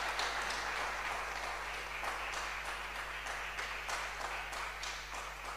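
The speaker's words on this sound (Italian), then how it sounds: "prendiamo l'applauso" Steady audience applause at the Taormina Book Festival in Italy, many hands clapping in a continuous wash, fairly distant and quiet over a low steady hum throughout.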